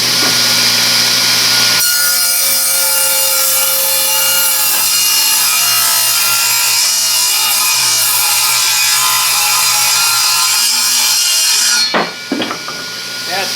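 A table saw cutting wood: the blade's loud whine rises sharply, then holds a steady, rough, buzzing cut for about ten seconds before dropping off abruptly at the end, close and dominant.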